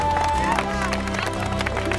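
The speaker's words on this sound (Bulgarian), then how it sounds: "Аплодисменти за тази двойка!" Crowd applause for a couple on a Bulgarian reality competition show, dense clapping and cheering throughout, with a loud voice speaking over it.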